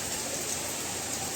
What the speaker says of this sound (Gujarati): વરસાદે પણ ધોધમાર ચાલુ થઈ ગયો છે